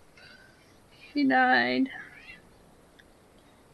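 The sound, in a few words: cat meowing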